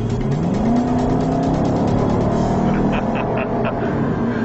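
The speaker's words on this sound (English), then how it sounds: "One of my favorite features of this Jaguar is a muted roar coming out the back when you floor it." A 2011 Jaguar XK convertible at full throttle, its exhaust giving a muted roar that climbs through the revs, close and loud, steady with no talk.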